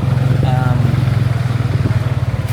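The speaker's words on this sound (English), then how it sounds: "So I'm now going to take a remorque, which is basically a modern day rickshaw. It's a motorized rickshaw." A motorized rickshaw, a remorque in Siem Reap, chugs close by with a loud, throbbing idle pulse. A voice speaks briefly over the engine.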